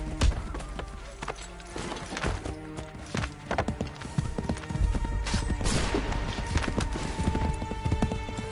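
Horse hooves galloping in Assassin's Creed 3, a rapid uneven clatter of hoofbeats on hard ground, loud and close and continuing throughout, with game ambience underneath.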